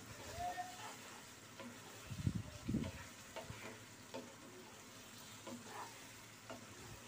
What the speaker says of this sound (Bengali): এবার আমি নেড়ে দিচ্ছি